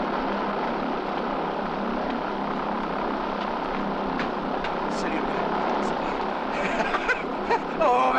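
An aircraft engine roars steadily as the aircraft takes off, a broad loud drone filling the scene with a few faint clatters and voices near the end.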